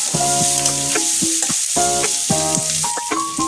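Onions sizzle steadily in a hot pan while a utensil stirs them, making squeaky scraping tones in short repeated bursts.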